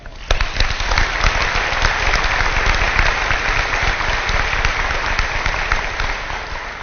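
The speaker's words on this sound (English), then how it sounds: "Let's give a round of applause for everyone who helped you get here." A crowd at a university commencement ceremony claps loudly and continuously, sustained applause filling the whole stretch with no voices standing out.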